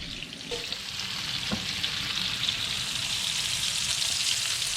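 Beer-braised meatballs frying in a pan, a steady dense sizzle throughout with faint scrapes and a brief knock early on, no talking.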